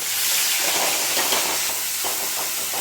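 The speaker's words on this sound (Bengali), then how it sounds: "এটা সাজিরে আমি ফোড়নে দিয়ে দিচ্ছি। এবার এই মশলাগুলো আমি এর মধ্যে দিয়ে দিলাম।" Spices being added to hot oil for a rohu fish recipe, a loud continuous hiss of tempering with a sizzling wash that barely varies, close up and with no speech.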